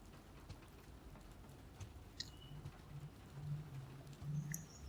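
Rain falling in the video game The Last of Us Part 2, a faint, soft patter spread evenly across the scene with a few light chirps and ticks on top, distant and calm.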